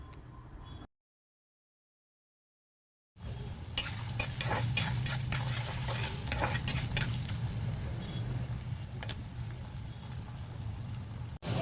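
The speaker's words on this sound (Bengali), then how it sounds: "একটা মাঝারি সাইজের আলু ডুমো ডুমো করে কেটে নিয়ে এই তেলে আমি ভেজে নিচ্ছি" Diced medium potato frying in oil with whole cumin for a vegetarian banana-flower fry gives a steady, close sizzle with stirring scrapes, starting after a short silent gap.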